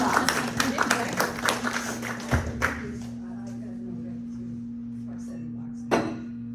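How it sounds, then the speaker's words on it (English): A small class in a Pilates session for people with Parkinson's gives a few seconds of sparse, uneven clapping over a steady hum, which fades into quiet with a single later knock. "Yeah, give her a round of applause."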